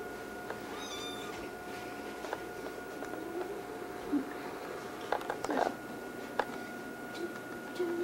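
Cat meowing faintly during a family birthday gathering in Florida, a few short high calls early and brief sounds later over steady room noise and a constant electronic hum.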